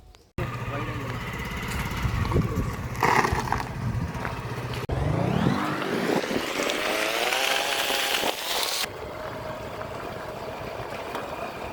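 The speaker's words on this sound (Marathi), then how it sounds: "आपण गाडी घेऊन जातो" A car engine in a Konkan forest starts with a sudden rough roar, idles unevenly, then revs up in a long rising whine before settling back to a lower running hum.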